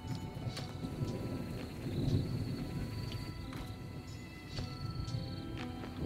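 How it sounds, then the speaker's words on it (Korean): Thunder rumbles through a steady rainstorm, a low continuous roar with swelling rolls and a louder surge near the middle, with scattered small clinks and knocks over the rain noise. "오, 천둥 친다."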